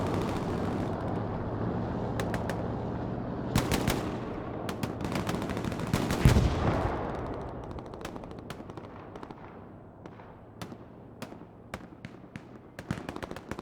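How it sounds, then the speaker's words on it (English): In the World War II shooter Hell Let Loose, a strafing run and an artillery battery pound the area: dense bursts of rapid machine-gun fire and booming blasts, loud at first, then thinning into scattered distant shots. "Strafing run ordered an artillery battery."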